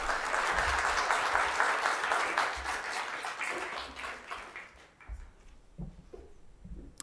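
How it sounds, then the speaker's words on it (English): A conference audience at a university lecture hall applauds the first speaker with sustained clapping that fades out over several seconds into a few stray claps and room noise. "can we give up an applause for our first speaker, please?"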